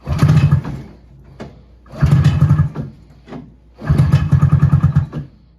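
A Ski-Doo Citation snowmobile engine sounds close and loud in three separate bursts, each a rough, pulsing run that cuts out before the next, like repeated starts and short revs.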